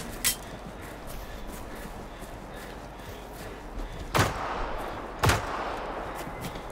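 Gunfire in the video game Generation Zero: a few sharp, loud single shots spaced seconds apart over a steady background hum, with no talking.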